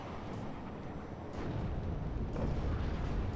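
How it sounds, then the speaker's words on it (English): Laser-guided bomb strikes a tank in the wargame WARNO, a dense rumbling explosion with low booming bursts that swell twice toward the end, loud and sustained with no voices. "BMP-3 about to get whacked by that laser guided bomb"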